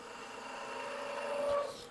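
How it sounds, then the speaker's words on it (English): A bowl gouge cuts wood on a lathe while a Christmas ornament is shaped, giving a continuous soft scraping hiss with a faint steady hum beneath, swelling slightly near the end. "Using the bowl gouge to get rid of the mass of the wood"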